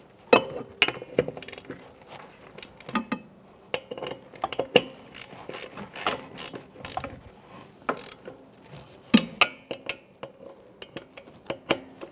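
A ratchet with a 14mm socket tightens wheel hub bolts in a crisscross pattern, making bursts of quick clicks that stop and restart, with occasional metallic clinks between them and no voices.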